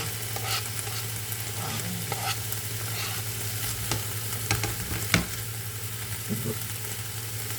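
Vegetables are stirred in a hot pan, giving a continuous close sizzle with repeated scraping and tapping strokes over a steady low hum, and no one speaks.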